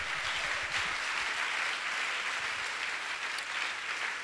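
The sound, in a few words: church congregation applauding the Lord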